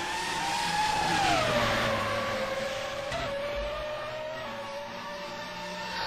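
Formula 1 race cars from the rFactor F1 2011 sim racing game at Melbourne, Australia, scream past with a sustained high engine whine that sweeps downward as they overtake, loud and continuous with no talk.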